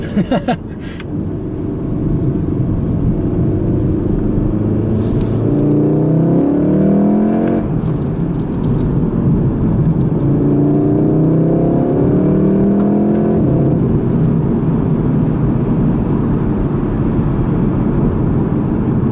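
A 2016 Volkswagen Golf R with DSG gearbox roars as it accelerates hard, the pitch sweeping upward through two gear shifts, heard close from within the cabin with steady road rumble.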